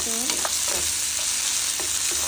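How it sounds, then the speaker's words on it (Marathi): Finely chopped onion fries in hot oil for a masala vegetable Maggi, with a loud, continuous close sizzle and a few light scrapes of stirring, no talk. "घालूयात आपण बारीक चिरलेला कांदा कांदा परतून घेऊ तेलामध्ये लालसर रंग येईल"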